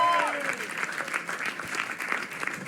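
Studio audience applauding Kapil Dinkar on a comedy talent show, a dense steady clatter of many hands throughout, with a brief tonal voice-like sound at the start.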